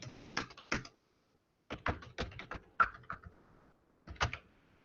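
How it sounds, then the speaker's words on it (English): Someone types on a computer keyboard in short bursts of crisp keystrokes, separated by brief pauses, close and fairly quiet with no talking. "you click on the text, start typing"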